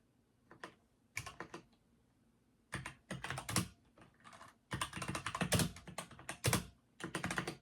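Bursts of rapid clicking keystrokes on a computer keyboard while writing a screenplay, close and crisp, coming in irregular clusters separated by short pauses.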